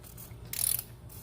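A short ratcheting clicks from a socket wrench loosening the top oil filter on a Ford 6.0 Powerstroke diesel engine during an oil change, one brief burst amid quiet.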